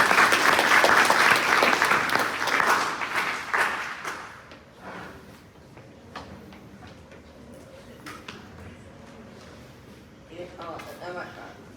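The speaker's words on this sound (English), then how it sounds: "Give a nice round of applause, everyone." Audience applause at an information session, a dense burst of clapping for about four seconds that quickly thins to a few scattered claps, followed by quiet room noise and a voice beginning to speak.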